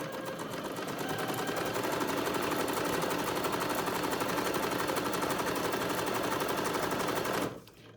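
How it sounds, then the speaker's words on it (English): A sewing machine zigzag-stitches along a fabric edge of a doll's lab coat, a loud, steady rapid rattle running continuously for about seven seconds before stopping abruptly. "We're just going to zigzag all the way across just so that it doesn't fray."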